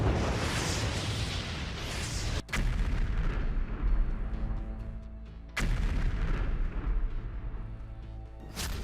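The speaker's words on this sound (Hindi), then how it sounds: "यूक्रेन के शहर में नॉन स्टॉप धमाके हो रहे हैं।" Explosions and artillery fire in a Ukrainian city: a rolling roar of heavy blasts, with two sudden sharp booms cutting through. Each boom is followed by a long rumbling decay, loud and continuous throughout.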